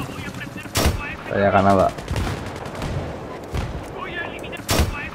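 Gunfire from the Battlefield 3 video game: a few sharp, loud shot bursts at irregular spacing, with a short rattling volley in the middle, while a player talks over the game audio.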